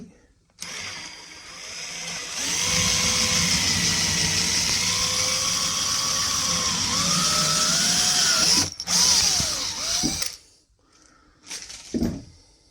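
A power drill bores a 6mm hole in a diesel heater fuel tank, a steady loud whine with shifting pitch as the bit cuts, then brief spurts and voices afterward.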